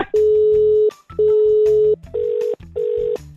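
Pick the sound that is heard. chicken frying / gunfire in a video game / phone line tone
phone line tone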